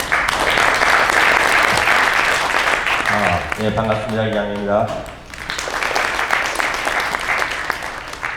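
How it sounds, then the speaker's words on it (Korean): Audience applause at an investment seminar fills the room, dense and steady, briefly giving way as someone speaks a short greeting into the microphone, then resuming underneath. "저희 박수로 강사님을 모시겠습니다"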